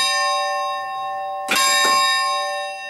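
Steel church bell at the Litenčice church rings out with a sustained metallic tone and bright overtones, struck twice in quick succession about half a second apart, close and loud with a long lingering hum.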